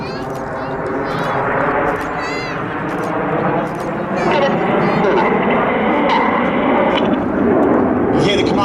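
RAF Red Arrows jets performing at an air show, a broad continuous roar that stays loud throughout, heard beneath a commentator speaking over a public address system.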